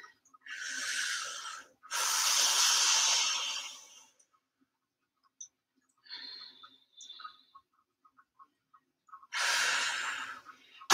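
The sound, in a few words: breathing during a workout cool-down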